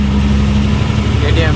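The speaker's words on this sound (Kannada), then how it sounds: "ನೋಡಿ, ನನ್ನ ಫೇವ್ರೆಟ್ ಬೈಕ್ ಬರ್ತಾ ಇದೆ," A KTM Duke motorcycle engine runs steadily and loudly close by, with a strong low hum that stays level throughout.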